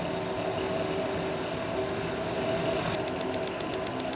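A car's fuel injector picked up through a mechanic's stethoscope gives a close, steady, rapid clicking tick over the engine's continuous idle hum, with no talking.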